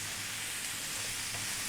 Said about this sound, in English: Let's just kind of fry it around and incorporate the spices.